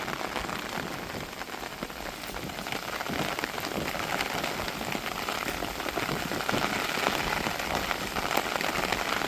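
Heavy rain pours down steadily during a windy village storm, a dense, continuous hiss of drops striking surfaces with no voices.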